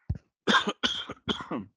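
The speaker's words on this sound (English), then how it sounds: "what a time to get a coughing fit" A short burst of harsh coughs, three or four in quick succession, close and fairly loud, with brief gaps between them.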